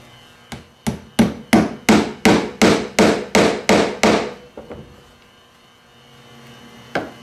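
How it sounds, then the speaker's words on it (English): A hammer drives upholstery tacks into a leather edge: about a dozen sharp, evenly spaced strikes close by, then a few lighter taps, a pause and one final knock. "As I'm driving the tack, I'm controlling where the placement comes along the edge."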